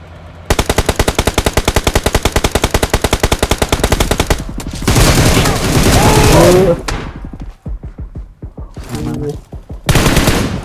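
Automatic gunfire in PUBG Mobile: a long, loud, rapid burst of shots lasting several seconds, then a brief roaring blast and a pause, with a final short burst near the end; a voice speaks between shots.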